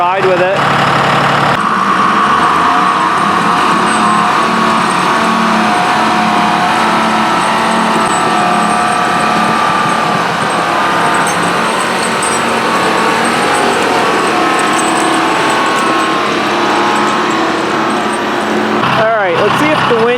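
A heavy logging machine's engine idles steadily as it warms up, a continuous rumbling drone that holds nearly unchanged for about twenty seconds at close range.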